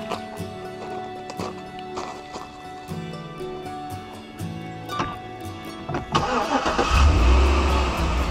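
A 2013 Chevrolet Suburban cranks and starts in winter cold, a brief whirring crank followed by the engine catching and settling into a loud, steady idle close by, with no talk.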